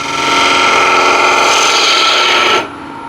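A spindle gouge cuts crossgrain wood spinning on a lathe with a loud, close, continuous rasping hiss. After about two and a half seconds the cut lifts off, leaving only the lower hum of the machine.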